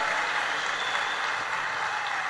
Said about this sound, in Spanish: denle un aplauso al Señor en esta hermosa hora